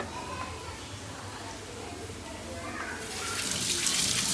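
Running tap water pours steadily over a pot or dishes in a home kitchen after cooking with ghee, swelling louder toward the end, with voices faintly in the background.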